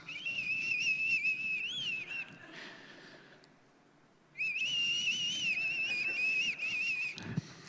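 A comedian on stage imitates a whistling sound heard in a house at night, whistling two sustained wavering tones separated by a short pause, loud and close with a live-show room behind.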